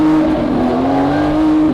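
A Nissan GT-R with a 1300 hp built motor runs loud and close, holding a steady, rising engine drone as it revs gently.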